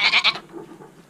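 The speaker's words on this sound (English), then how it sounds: "the goats are outside in their pen" Goats in an outdoor farm pen give a short, loud, wavering bleat that fades into soft background noise.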